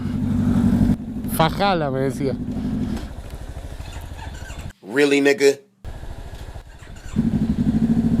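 A Yamaha MT-03 motorcycle with a new free-flow exhaust idles with a deep, lumpy burble, close and loud. Voices talk over it in between, with short revs at moments.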